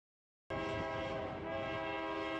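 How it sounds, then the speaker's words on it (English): A train horn blares loud and sustained after a brief silence, with low rumbling rail noise beneath it, as a train approaches a Highway 5 bridge in Calico Rock, Arkansas. "a train approached as we crossed the bridge on Highway 5"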